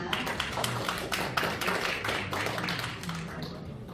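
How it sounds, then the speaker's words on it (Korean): An audience at a foundation's founding seminar on fighting fake news applauds a professor as he is introduced, a steady patter of many hands clapping that holds at a moderate level throughout, with some murmur underneath. "여러분 큰 박수 한번 부탁드립니다"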